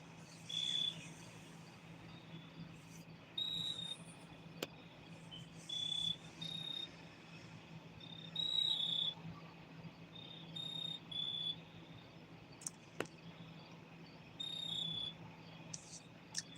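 Crickets chirp outdoors at night in repeated short high-pitched bursts, fairly faint against a steady low background hum, with no voices present.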